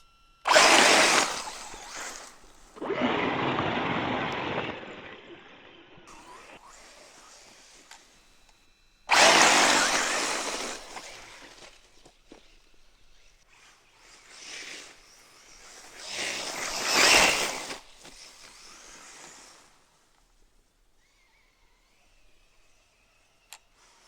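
A Traxxas Slash 4x4 RC truck bashing in a park sand volleyball area, its electric motor whining in several loud, close bursts as it accelerates and launches, with quieter gaps between runs and a faint high whine near the end.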